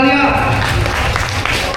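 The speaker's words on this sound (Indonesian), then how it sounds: "Tepuk tangan untuk Ade Alia." Junior high school students at an anti-corruption session clap together in a short, dense burst of applause, loud and close, with voices mixed in.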